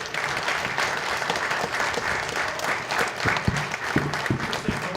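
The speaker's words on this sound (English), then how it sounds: "Y'all clap for Tony Turner coming to Jackson one more time" A crowd applauds steadily and loudly after a stand-up comedy set in Jackson, with a few louder individual claps rising through the dense, continuous clapping.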